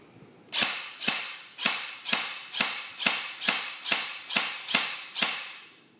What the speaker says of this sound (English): So you saw semi, it's pretty good.